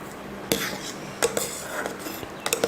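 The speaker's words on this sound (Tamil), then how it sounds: "அடுத்து சர்க்கரை சேர்த்துடலாம்." Sugar going into payasam in a pot and being stirred, with several sharp metallic clinks and scrapes of a spoon against the pot over a soft steady background, close and fairly loud.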